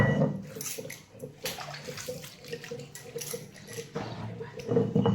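Water swirls and splashes in a bowl as ingredients for a cauliflower curry masala are rinsed clean, close and fairly loud with irregular sloshing bursts and no speech.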